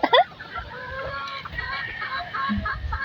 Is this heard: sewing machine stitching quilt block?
no